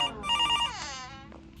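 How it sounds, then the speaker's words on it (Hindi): A phone ringtone plays a short, bright repeating electronic melody, fairly close and loud, then slides off into a fading tone. "टुनुनु टुनुनु, कॉल आ गया भाई, प्रमोशन का कॉल आ गया"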